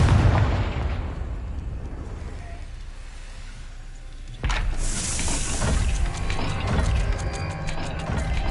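A Confringo blasting spell in Hogwarts Legacy bursts with a sudden loud crack and whoosh midway, after a low rumbling, mechanical-sounding background, then fades into a sustained roaring tail with clanking game ambience.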